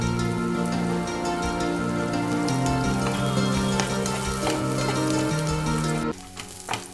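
Chopped onion and curry leaves frying in hot oil for a dal tadka tempering, a steady dense sizzle held close for several seconds, then easing slightly near the end, no talking.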